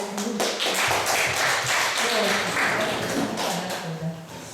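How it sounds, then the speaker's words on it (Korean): A small group claps steadily and briskly for several seconds, close by, the applause tapering slightly toward the end. "우리 김정자 모시겠습니다. 박수로."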